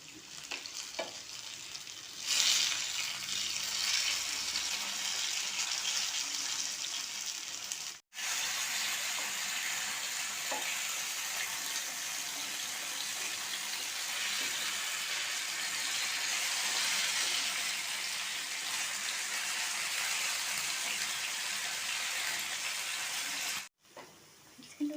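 Chicken fries under a lid on medium flame, giving a steady loud sizzle that breaks off abruptly twice, as if the lid is lifted or the pan is moved.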